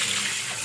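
Water gushes steadily out of a Samsung twin-tub washing machine as it is emptied, a continuous close splashing pour with no pauses or voices.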